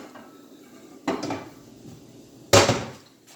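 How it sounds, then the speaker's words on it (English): A lid is set onto a cooking pot on the stove, two separate metallic clanks about a second and a half apart, close and clear in a quiet kitchen. "I am going to cover it up. I'm going to turn my pot to a simmer."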